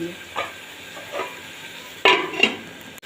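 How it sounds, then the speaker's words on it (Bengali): Spice-coated fish pieces cooked with new potatoes in a pan, stirred and braised: a low sizzle broken by a few soft scrapes and two sharper clatters of the spoon against the pan near the end. "এবার বেশ নেড়েছে আলুর সাথে অনেকক্ষণ ধরে কষিয়ে নেবো"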